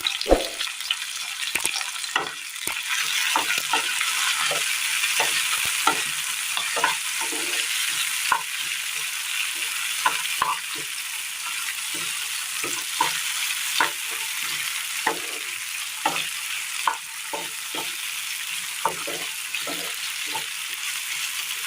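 Chopped tomatoes and curry leaves fry in a pan for sambar, a continuous hissing sizzle with frequent rhythmic scrapes and taps of stirring, close and steady throughout, no voices.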